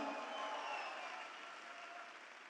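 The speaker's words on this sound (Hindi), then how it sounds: "एक बार और जोरदार तालियां बजाएं।" An audience claps together in a steady, even wash of applause that fades gently toward the end, heard from a distance at modest volume with no talk over it.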